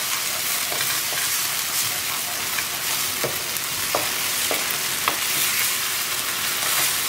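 Ginger garlic paste and onions sizzling in a pan over medium heat for a Goan meatball curry, a loud, steady close frying hiss with occasional spoon scrapes.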